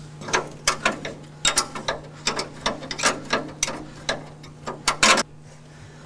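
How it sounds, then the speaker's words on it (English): A ratchet wrench removes the bolts from a Rolls-Royce brake plate during a brake rebuild, producing a steady run of close, crisp clicking strokes in quick bursts over a faint low hum, with no talk. "So we're going to remove the last bolt that's holding the plate"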